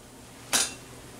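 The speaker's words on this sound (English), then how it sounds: "I've got my plate and fork here" A fork strikes a plate once, close and fairly loud: a single bright clink with a brief ringing tail, set against quiet room tone with no talking, just as a skillet frittata made with leftover rice is about to be served.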